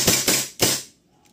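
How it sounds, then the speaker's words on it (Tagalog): A WE 1911 airsoft pistol fires three sharp, loud shots in quick succession at close range, each a crisp snap with a brief metallic ring, ending in quiet. "WE 1911. Firing."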